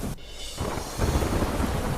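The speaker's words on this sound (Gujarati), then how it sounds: "ધોધમાર વધારે વરસાદ મુશ્કેલી વર્તાઈ રહી છે" Heavy monsoon downpour in Nakhatrana, Kutch, a dense steady roar of rain that swells louder after the first second, with a low rumble underneath and no voices.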